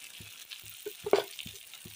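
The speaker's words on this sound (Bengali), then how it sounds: "মশলাটা দেখো ভালো করে কষিয়ে নিচ্ছি" Spice masala with turmeric sautéing in a pan, a faint low sizzle broken by a regular series of soft spoon scrapes and one sharper clink, close and quiet.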